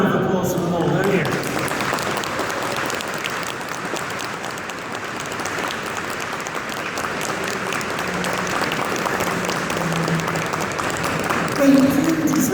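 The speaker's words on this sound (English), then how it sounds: "I think a big round of applause for them all, don't you?" Sustained audience applause at an education conference session, a dense, even wash of many hands clapping that carries on for over ten seconds with little change in loudness, a brief voice emerging near the end.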